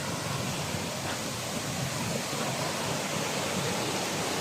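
A river rushes with a loud, steady broadband roar, continuous and unbroken throughout, heard close by with no voices.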